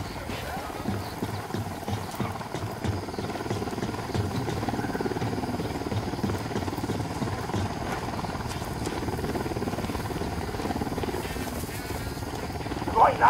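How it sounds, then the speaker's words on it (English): An enemy helicopter in the Ghost Recon Wildlands video game drones steadily throughout amid a dense, busy mix of battle and ambient noise, with voices faintly present underneath. "Helicopter incoming."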